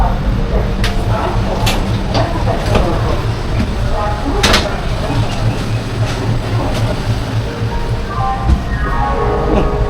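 An old, dirty Jan Shatabdi Express rumbles steadily while moving, with a loud continuous low roar, scattered clicks and knocks from the carriage, and faint voices mixed in.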